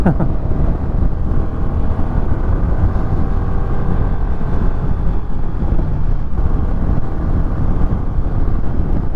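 A motorcycle climbs a steep mountain road near the Meteora monasteries, its engine a steady low drone buried under heavy, constant wind buffeting on the microphone, loud and unbroken throughout.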